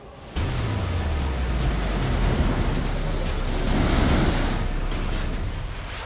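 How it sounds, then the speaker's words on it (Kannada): A powerful roar of water rushing out of all the opened gates of the Tungabhadra Dam starts abruptly and holds as a broad, steady wash of noise, swelling slightly midway, with wind buffeting the microphone. "ತುಂಗಭದ್ರಾ ನದಿಯ ಎಲ್ಲ ಗೇಟ್ಗಳನ್ನು ತೆಗೆದು ನೀರನ್ನು ಹೊರಬಿಟ್ಟಿದ್ದಾರೆ"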